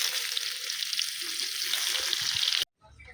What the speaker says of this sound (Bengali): ইঁচড়টা ভেজে নেব,